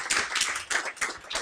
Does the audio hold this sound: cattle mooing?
no